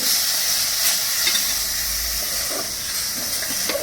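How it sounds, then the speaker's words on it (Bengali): Milk-based gulab jamun mixture stirred continuously in a pan, a loud steady hiss and sizzle with light spatula scrapes close by, no speech. "নাহলে এটা ডেলা পাকিয়ে যাবে ভালো করে নেড়ে নিই"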